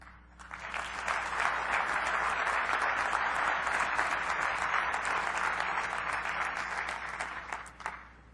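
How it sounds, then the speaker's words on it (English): An audience at a Microsoft Office XP keynote applauds after the remarks, the clapping swelling quickly, holding steady for several seconds, then tapering off at a moderate distance. "Make sure to applaud a lot for Eric Levine and Kirk Laram"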